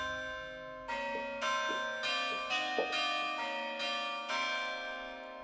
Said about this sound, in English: This here is a church bell.